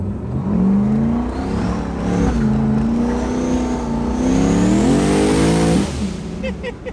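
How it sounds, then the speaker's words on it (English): A 1000 HP turbocharged Trans Am engine revs hard in long, loud rising and falling pulls with a whistling turbo whine, then the blow-off valve releases with a sharp hissing burst near the end. "The blow-off valve is crazy loud."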